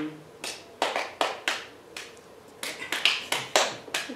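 A few sharp hand claps picked out one at a time in a rhythm, close and fairly quiet, spaced unevenly at first then quicker in a small run toward the end, in a quiet room with no talking.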